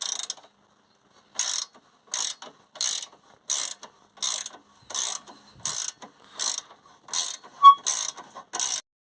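About a dozen evenly spaced bursts of rapid ratchet clicking from a 1/4 inch ratchet on a 7mm socket, opening a spring compressor on a Vauxhall Corsa D McPherson strut, close and crisp with short silent gaps between strokes.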